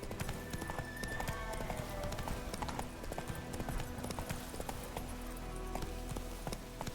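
Hoofbeats of Roach, a horse in The Witcher 3 video game, clip-clopping in a steady running rhythm, close and loud, with a brief whinny and game ambience behind.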